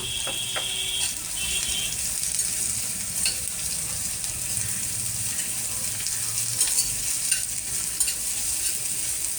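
Onions frying with a little salt in a pan for palak paneer, a steady, close sizzle running throughout with light scraping and clicking from stirring, and no voices.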